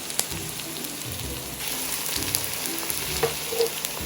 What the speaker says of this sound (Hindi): तो देखें ये सिजल होने लग गया है